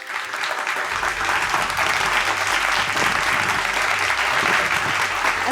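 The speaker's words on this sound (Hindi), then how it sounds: "सो आप लोग की भरपूर तालियों में बुलाना चाहूँगी" A cooking class audience at a hotel in Islamabad breaks into applause to welcome a chef, dense clapping that swells in quickly and stays loud and continuous for several seconds, with no speech over it.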